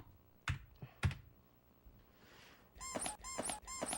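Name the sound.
squeaky shoes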